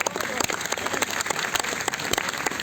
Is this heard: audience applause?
yes